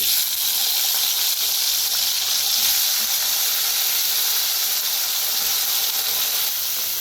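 Potato pieces fry in oil with a steady, loud, hissing sizzle that holds evenly from start to finish, close up and with no speech.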